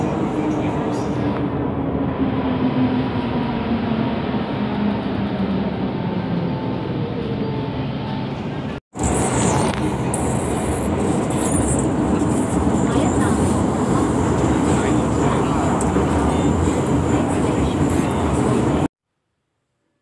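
Steady, loud rumble and rolling roar inside a moving Hong Kong MTR train, continuous for the whole stretch apart from a brief cut midway, with muffled cabin noise throughout.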